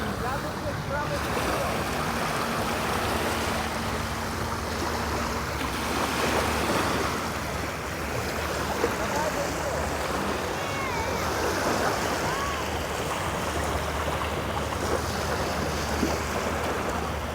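Ocean surf on Chaweng Beach, Koh Samui, Thailand, washes steadily onto the shore at sunset with a constant rushing hiss and some wind buffeting, faint voices occasionally beneath.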